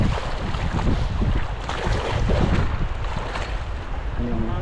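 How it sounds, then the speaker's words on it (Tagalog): Strong wind by a riverbank roaring and buffeting the microphone continuously, with a rushing, watery backdrop like open water; no clear voices. "Malakas ang hangin."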